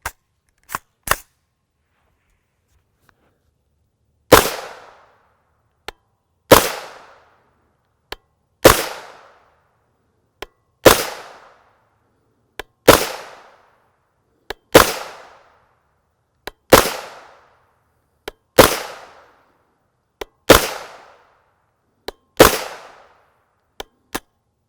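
Ten sharp, evenly spaced shots from a 9mm AR9 rifle that takes Glock pistol magazines, firing Steel Ops 115 grain FMJ rounds with Shell Shock cases. Each loud crack rings briefly, with faint clicks between shots and no talking.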